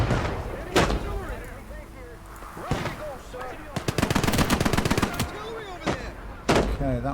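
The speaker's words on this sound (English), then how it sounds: "Okay, that was a machine gun." Machine gun fire in a war film battle, rapid bursts of gunshots and heavy booms mixed with shouted dialogue, loud and close with quieter gaps between volleys.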